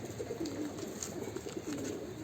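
Racing pigeons coo in soft, repeated low throaty calls, close by, over a faint steady background hiss.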